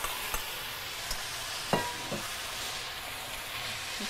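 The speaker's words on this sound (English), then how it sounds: "And then we're going to put in our meat, and that hot wok is going to just sear it real fast." Pork sears in hot oil in a wok, a low steady sizzle with a few soft clinks and stirring knocks scattered through, fairly quiet throughout.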